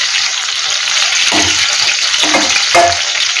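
Brinjal pieces frying in oil in a pan, a loud continuous sizzle close up with a few soft scraping stirs breaking through.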